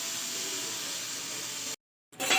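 A steady, loud hiss of steam escaping from a pressure cooker of cooked moong beans runs for a couple of seconds, cuts off abruptly, then resumes sharply.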